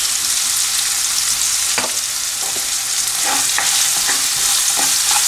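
Chicken with green chilies and salt frying in a pan for spicy Chettinad chicken varuval, a loud continuous hissing sizzle with occasional soft scrapes of stirring.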